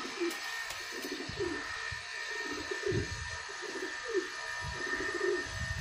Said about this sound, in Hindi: एक ऊपर से और कबूतर निकला है